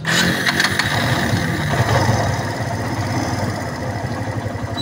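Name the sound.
engine starting and idling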